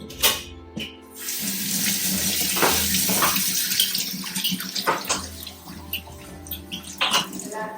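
Tap water gushes into a container being filled to the brim for storing potatoes in the fridge, a steady close rushing stream with splashy surges and a few drips near the end, no talk over it.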